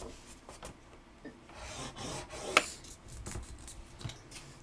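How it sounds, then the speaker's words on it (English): A scoring tool scratches along small cut paper or card pieces, 1 by 3 1/2 inches, for a folded tea gift box, making soft rasping strokes with a sharper scrape midway, close and quiet with no talking. "And I am just going to score these on the 1 inch side at 1/2 inch."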